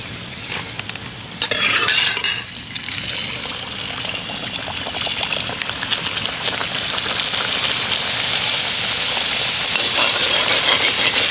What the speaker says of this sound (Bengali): একটু তেলটাকে ঠিক এইভাবে নাড়তে হবে।